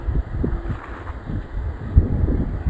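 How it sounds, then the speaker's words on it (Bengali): Strong wind gusts buffet the microphone with a continuous low, uneven rumble that swells and eases throughout. "কিন্তু আজকে বাতাস ছাড়ছে অনেক।"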